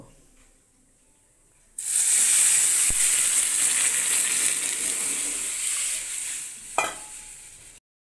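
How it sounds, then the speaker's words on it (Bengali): Moong dal lightly frying in a pan, a sudden loud sizzle that starts after a quiet moment and holds steadily, with a sharp click, a brief stirring scrape near the end, then a cut to silence. "মুগ ডালটাকে একটু হালকা ভেজে নিব, তারপর জল দিব।"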